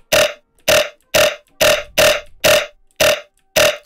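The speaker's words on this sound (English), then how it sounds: "It's really good for getting some nice punchy distortion going." A gritty, distorted bass is processed with Fruity Fast Distort in FL Studio for jump-up drum and bass, heard as eight loud, punchy, evenly spaced stabs, each short and buzzy, with no other sound around them.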